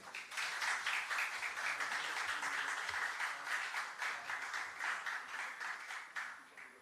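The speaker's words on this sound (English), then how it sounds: "a round of applause, please, for this momentous occasion" A crowd applauds steadily for several seconds at a United Nations cooperation framework signing ceremony, a dense, even patter of many hands that tapers slightly toward the end.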